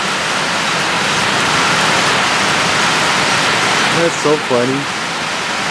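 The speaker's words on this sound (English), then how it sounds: "Now the rain's coming on hard enough right now" Heavy rain pours down in a cloudburst outdoors, a dense, loud, steady hiss that fills the whole stretch, and a person speaks briefly near the end.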